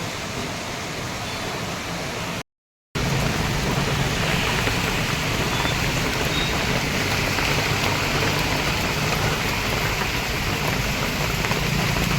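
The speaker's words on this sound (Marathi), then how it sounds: "आज सकाळपासून खूप जास्त पाऊस आहे" Heavy rain pours down in a steady, dense hiss, loud and continuous, with a brief gap early on and no voices.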